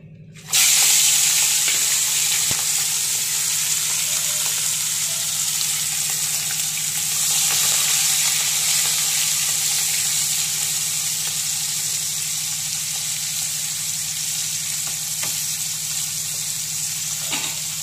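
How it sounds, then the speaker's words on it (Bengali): Steady, loud sizzling of prawns coated in salt and turmeric frying in hot oil, a continuous crackling hiss with no talking, running unbroken from start to finish. "এবার এর মধ্যে নুন হলুদ দিয়ে আমি মাছটা ভেজে নেব"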